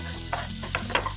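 Onion goes into a hot pan for a homemade balbacua, making a brief steady sizzle broken by a few quick stirring scrapes, close and without talk.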